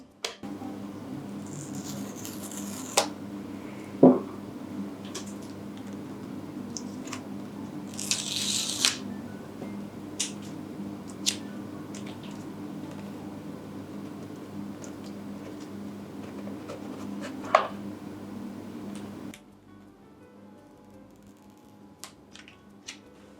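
Sage green iPhone 17 being unboxed: scattered clicks, scrapes and soft packaging rustles over a steady low hum, with a brief burst of tearing and a quieter stretch near the end.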